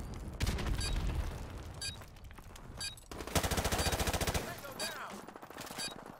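Rapid automatic gunfire from Modern Warfare Remastered multiplayer rattles in quick sustained bursts, with sharp repeated cracks, a few booms and mechanical clicks between volleys, close and punchy.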